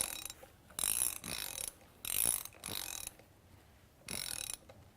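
A restrictor bar sliding out of its slot in a mechanical assembly, heard as four or five short bursts of close scraping and rattling mechanism noise separated by brief pauses, quiet overall with no talk.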